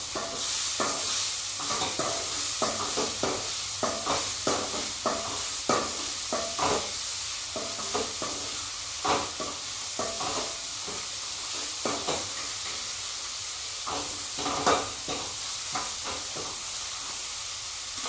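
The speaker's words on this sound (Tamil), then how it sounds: "தக்காளி கூட இந்த பாவக்காயும் நல்லா எண்ணெயிலே வேக விடுது" Bitter gourd and tomato frying in hot oil: a steady, loud sizzle and hiss, with repeated scraping stirs throughout and no speech.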